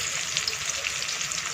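Whole spices such as bay leaf, curry leaves and kasuri methi sizzle steadily in hot oil, a dense crackling hiss that runs unbroken and close.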